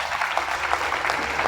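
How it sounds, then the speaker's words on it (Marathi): An audience at a family celebration in Sambhajinagar claps in a dense, steady burst of applause, close and fairly loud throughout. "एकदा जोरदार टाळ्या झाल्या पाहिजे."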